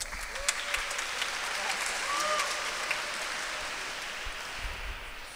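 An audience in Toulon applauds steadily at a French Catholic vocation gathering, a continuous wash of moderate clapping that carries on evenly throughout.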